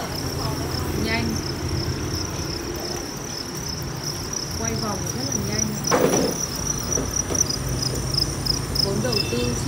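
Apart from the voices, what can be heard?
crickets chirping on a cricket farm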